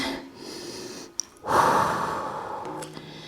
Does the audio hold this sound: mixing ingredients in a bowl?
no